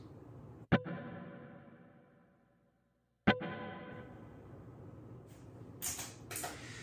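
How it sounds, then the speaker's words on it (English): Two sharp plucked electric guitar chords through a very subtle plate reverb, each ringing out with a short, soft reverb tail, followed by lighter picked notes at moderate volume. "just a very subtle plate reverb"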